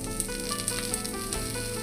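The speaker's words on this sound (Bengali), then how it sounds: "ভালো করে একটু ফ্রাই করে নিব।" Flattened rice (chira) frying in a pan for pulao, giving a continuous close sizzle with a few light stirring clicks over a short stretch.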